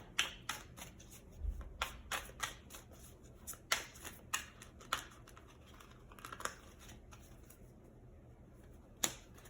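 Tarot cards being shuffled by hand, a series of crisp riffling and slapping bursts at a rough irregular rhythm, close and fairly quiet, with no speech.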